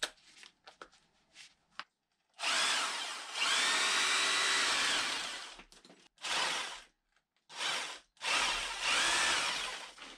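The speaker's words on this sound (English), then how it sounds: "So I'm gonna put the long drill bit on and see how far that will take me through the wall" Loud bursts of power drilling with a long drill bit through a barn wall, mostly gravel inside, several long runs separated by short pauses, with scraping and clicks between them.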